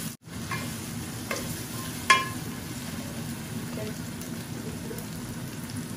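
Curry with onion, garlic and green chili paste sizzles steadily in the pan at close range, giving a soft continuous frying hiss with a few faint stirring clinks and no talk.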